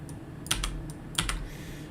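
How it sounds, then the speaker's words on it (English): A computer keyboard is typed on in a few short bursts of crisp clicking keystrokes, close and fairly clear over a low steady background hum, with no talk. "Oh, damn my keyboard."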